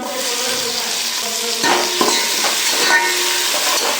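Tomatoes fry in a pan over browned onions for chicken dum biryani, a close, loud steady sizzle with rhythmic scraping stirs in the second half, no talking.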